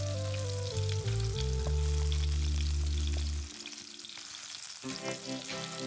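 Coconut oil sizzles and crackles steadily as food fries, with loud low humming tones for the first few seconds before the frying continues on its own.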